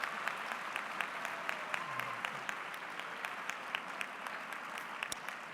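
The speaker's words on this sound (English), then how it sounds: "Could I also ask you to give a round of applause to say thank you to those who taught you?" Applause fills a hall at a university autumn graduation ceremony, steady dense clapping from a large audience with scattered sharper claps, heard at a moderate distance.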